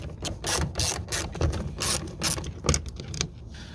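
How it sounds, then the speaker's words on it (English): A ratchet tool loosens three screws on a car window motor, a series of sharp, rapid clicking strokes close by, in uneven bursts with no talking. "So we need to remove these 3 screws."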